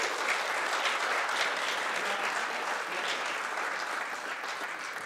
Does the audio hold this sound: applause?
yes